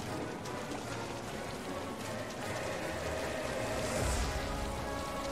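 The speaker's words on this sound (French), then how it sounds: "il pleut en plus." Steady, dense rain in Kingdom Hearts III pours down continuously with a hissing wash, constant in level throughout and no voices over it.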